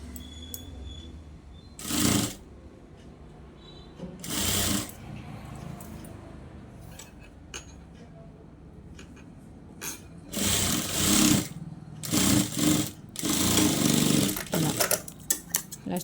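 A sewing machine stitches frills onto a dress in several bursts of rapid mechanical whirring, some short and some sustained, with quiet pauses between runs.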